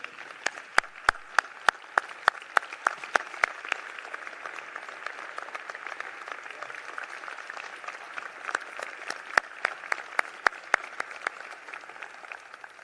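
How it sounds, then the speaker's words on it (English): A standing ovation in a state General Assembly chamber: a room full of people clapping steadily for the whole span, with a few sharp, close individual claps standing out above the wash. "If we can give them a standing ovation for their boldness."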